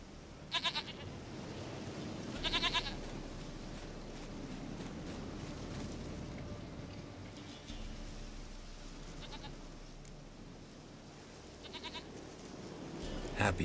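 Goat bleating in the video game The Witcher 3, with a few sharp, nasal bleats spread across the span over a steady ambient game bed and low background murmur.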